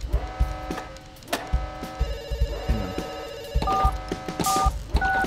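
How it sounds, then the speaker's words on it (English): Telephone ringing in the Dr Langeskov game, repeated bell-like electronic rings with dial-tone beeps amid clunky game sounds and music. "Oh, Christ, please pick up the phone."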